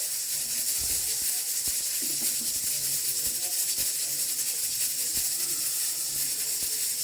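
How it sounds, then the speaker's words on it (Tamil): Cumin seeds fry in hot oil in a pan for goat blood stir-fry, a soft continuous hiss with scattered faint crackles and pops, fairly quiet and with no talking. "சீரகம் நல்லா பொரியட்டும்"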